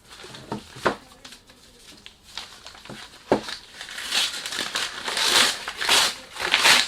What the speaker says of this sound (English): Sorry about the noise. When you do unboxing, you can't do much.